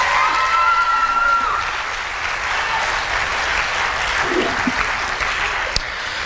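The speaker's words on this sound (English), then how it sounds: "So a round of applause for Miss Joanne Smith." Loud, sustained applause from an audience at a school event honoring Miss Joanne Smith, a thick continuous wash of clapping with faint cheering mixed in, holding steady throughout.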